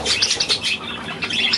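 Eagle owl flapping its wings with short chirpy calls, a close, busy flurry of fluttering bursts that sound like bird flight.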